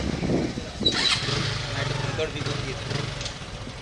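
A 100cc motorcycle rides along with a steady low engine drone and rushing wind throughout, while voices talk over it.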